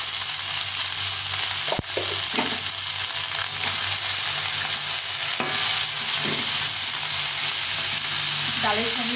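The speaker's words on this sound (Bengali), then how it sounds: "এখন এই সবজিটা সব দিয়ে দেবো ওর মধ্যে, দিয়ে ভালো করে ভেজে নেব" Mixed vegetables fry in a pan for a vegetarian chorchori, giving a steady sizzle throughout, broken by a few sharp clinks and scrapes of a stirring spoon against the pan.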